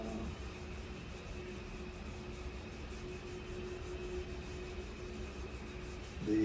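Sanding sealer being rubbed by hand onto a turned walnut bowl, a steady close-up dry friction hiss that holds evenly throughout without pauses.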